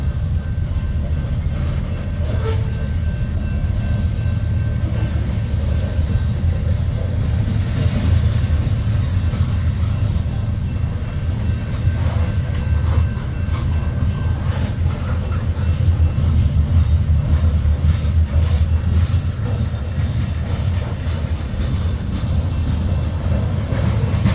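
A loaded freight train rolls steadily past on the Boone sub in the Midwest, heading east after coming off the Council Bluffs Mo Valley sub, its deep rumble and rail clatter loud and continuous throughout with no voices.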